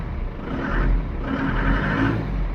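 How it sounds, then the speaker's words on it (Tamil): A Tata Sumo Victa with the DI diesel engine runs steadily, a loud close rumbling drone with a slight rise and fall in pitch and no voices over it. "இதாங்க இந்த வண்டியோட ஸ்பெஷாலிட்டி இதுதான், இன்ஜின் நாய்ஸ்."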